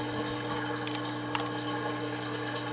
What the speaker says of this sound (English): Just going to wait for this to finish draining.